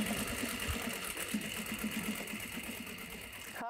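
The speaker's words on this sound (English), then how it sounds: "We're stitching here." A sewing machine stitches a denim tote bag with a steady, continuous mechanical whir that runs evenly at close range, ending abruptly.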